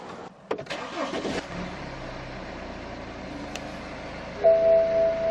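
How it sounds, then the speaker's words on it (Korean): A BMW X1 20d xDrive diesel engine cranks and catches after a few clicks and door or cabin thuds, then settles into a steady idle hum, with a brief chime tone near the end. "제가 한번 탑승해서 시동 한번 걸어보도록 하겠습니다"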